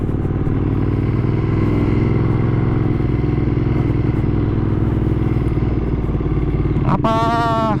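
A modified 2015 Ducati Monster 1200S on a test ride, its engine humming in a loud, steady close drone with a constant low throb, and a sharp rising whine cuts in near the end.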